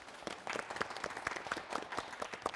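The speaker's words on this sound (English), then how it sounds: "let's give them a round of applause" A quiet studio audience applauds the quiz teams "Intelligent" and "Lucky Guys", a light, even round of clapping with distinct individual claps standing out, lasting under three seconds and with no voices over it.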